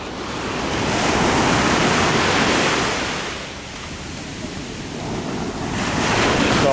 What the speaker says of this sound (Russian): бывают мгновения, когда волны небольшие, в это время можно, в принципе, зайти и выйти